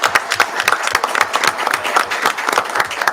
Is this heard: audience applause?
yes